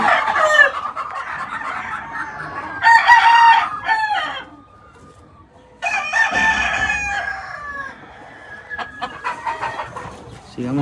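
A Cowan rooster crows several times in loud, close bursts with short pauses between them, while other fowl cluck faintly nearby.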